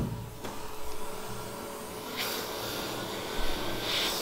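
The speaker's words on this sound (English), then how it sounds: "So we activate our dust absorber." Dust extractor at an iPhone 11 repair bench switched on: a steady, loud, broadband fan roar that continues throughout, with a sharper surge partway through.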